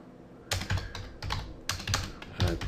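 Fingers tap out text on a computer keyboard in quick, uneven bursts of close clicking keystrokes with short pauses between words, heard alone.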